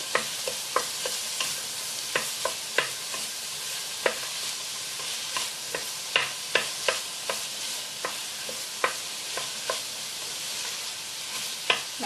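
Vegetables sweat in a hot pan before mussels are cooked, a soft steady sizzle broken by frequent sharp scrapes and clacks of stirring, close and without speech.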